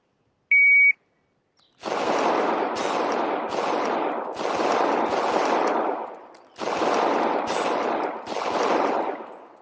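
A single electronic start beep is followed by several rapid strings of gunshots during Ace XR virtual-reality shooting practice. The loud, close bursts are separated by short pauses, with no talk.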